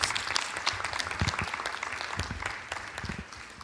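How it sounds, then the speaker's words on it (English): An audience at a collegiate research paper competition claps warmly to welcome student presenters, a dense burst of many hands that stays steady and slowly tapers toward the end. "Please welcome them with a warm round of applause."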